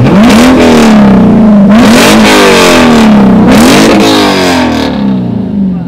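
A car engine revs hard and loud up close, rising and falling in three strong surging pulls before the note drops away into a lower idle.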